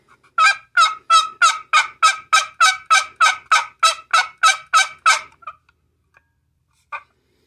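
A homemade wooden box call rasps out a steady run of about fifteen evenly spaced, yelping turkey notes, crisp and close, then a lone final yelp.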